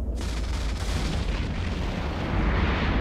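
Heavy assault missiles launch in a space combat video game, a deep booming salvo with a sharp onset followed by a sustained rumbling roar, loud and with no talk over it.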